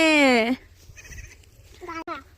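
A goat lets out one loud, wavering bleat up close beside a baby, followed by quieter rustling and a shorter bleat near the end.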